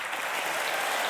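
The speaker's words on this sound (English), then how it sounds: "These are the same idiots who clap on The View and on the Bill Maher show" Audience applause filling the room, a dense steady wash of clapping that stays loud and even throughout, with no voices over it.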